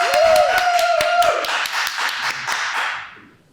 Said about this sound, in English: We get a round of applause, please